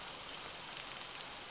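Rain in the video game Kiosk falls as a steady, soft hiss of drops on surfaces, even and unbroken, quiet and alone.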